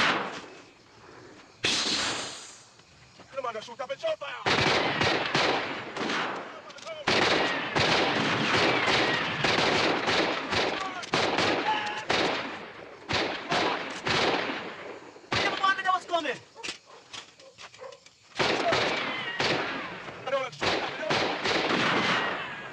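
Gunfire from a police shootout at a hideout in the Jamaican film The Harder They Come: dense, loud bursts of rapid shots and booming blasts, broken by short pauses and fragments of voices and effects.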